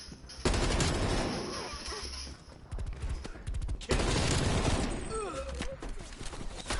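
Gunfire rattles in a PS4 shooter, dense automatic bursts with short pauses between volleys, loud and near, while a voice talks over parts of the shooting.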